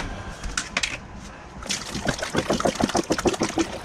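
Cold purified drinking water poured from gallon jugs into a container, a gurgling trickle that builds into a fuller splashing pour, with brief pauses between.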